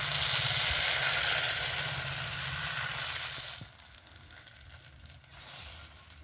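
Batter sizzles loudly and steadily in a kadai over a clay stove with a broad, hissing crackle. It eases off after a few seconds into softer, uneven frying with light clatter, and no one speaks.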